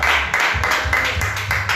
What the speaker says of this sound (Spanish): Vamos a darle un aplauso a Dios.